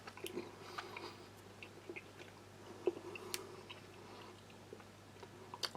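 Sticky, chewy jelly beans being chewed close to the mic, soft wet squishing and faint crunches of the shell repeating irregularly at a low level with no talking.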